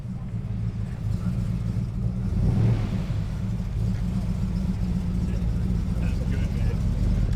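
A Cuda muscle car at a cars-and-coffee meet in Berrima, Southern Highlands, rumbles steadily with a deep, loud, continuous engine note close by, briefly swelling slightly midway, with faint background activity from the gathering.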